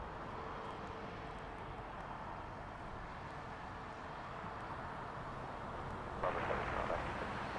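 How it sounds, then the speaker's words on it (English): A British Airways Boeing 777-200ER lands at Heathrow. Its jet engines roar as a steady, distant rumble that swells slightly toward the end. "This is British Airways 252 coming in from Nassau, 777-200 ER"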